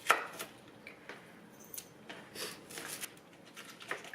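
A knife cuts a large vegetable bulb into two big chunks on a cutting board while carne asada taco fixings are prepared, giving a few quiet, scattered chopping taps close by with no talking.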